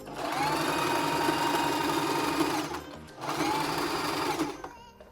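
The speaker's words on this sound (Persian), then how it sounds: "این چرخ خیاطی اولین چیزی بودش که تو مهاجرت خریداری کردم" A home sewing machine, used to alter and widen a pair of trousers, runs steadily at close range in two long bursts with a brief pause between them.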